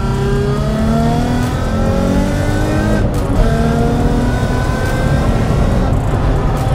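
A Nissan 350Z engine pulls hard under acceleration while driving, loud and continuous, with rising revs through short gear changes and a brief dip near the middle.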